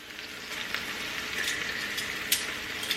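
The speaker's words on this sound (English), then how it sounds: "now I am going to flip it over so I can get some color on this top side" Jerk salmon frying in a pan as it is flipped over, a steady close sizzle with a few small pops, no voices.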